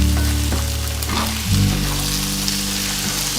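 Eggs and cauliflower fry in a hot pan, a steady loud sizzle with a utensil scraping and stirring through it, close and continuous without talk.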